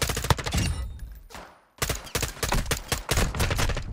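Gunfire in Call of Duty DMZ, including a bot shooting a pistol: loud, rapid bursts of close shots, a brief fading gap in the middle, then another run of sharp repeated reports.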